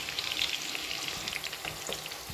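Shallots and native curry leaves sauté in hot oil in a pan over a medium gas flame, a steady close sizzle and crackle with small spits and pops, no voices.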